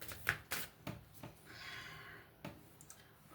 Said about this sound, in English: It's not letting me shuffle.